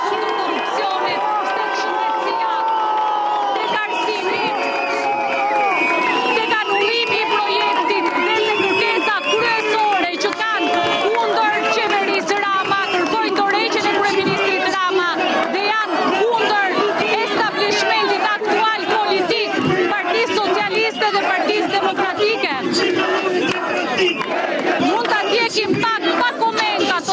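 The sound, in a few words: enthusiastic crowd at a protest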